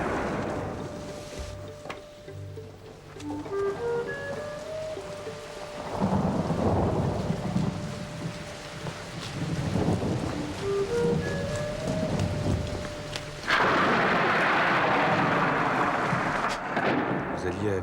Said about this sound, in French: L'orage m'a surprise.